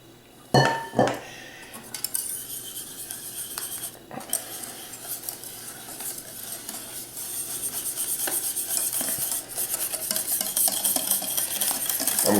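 Egg foam batter with flour and cornstarch being folded in a bowl, giving close scraping and swishing strokes with occasional clinks of utensil against the bowl, growing busier toward the end, with no voices.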